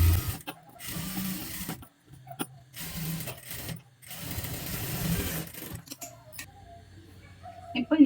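A sewing machine stitching the lining of a blouse runs in steady mechanical bursts with short pauses, while someone talks over it.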